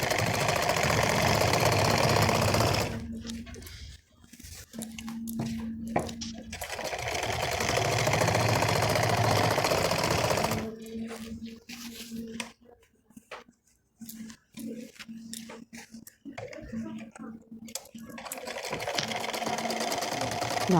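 A sewing machine runs in long, steady bursts while stitching stretched elastic onto a sari, its fast mechanical whir stopping and restarting with short pauses between runs.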